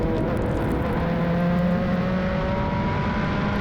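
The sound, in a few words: Formula Regional race cars racing at Canadian Tire Motorsport Park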